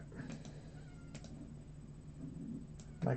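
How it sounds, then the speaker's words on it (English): A cat meows and cries outside a door in several short calls, faint and somewhat muffled against a quiet room background, with a slightly louder cry at the end. "My cat's crying outside the door."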